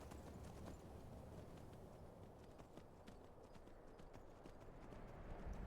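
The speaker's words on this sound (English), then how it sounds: "He's making noises that horses shouldn't make." A horse in the video game Skyrim clip-clops steadily, its hooves beating in a quick, continuous rhythm. The sound is faint and low throughout.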